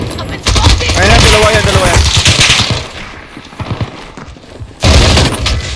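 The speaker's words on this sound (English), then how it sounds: "Uy, shotgun!" Rapid gunshots burst out in a multiplayer shooter game with a shotgun in play, loud and close for several seconds, then fade out and return in a sharp burst near the end, with players talking alongside.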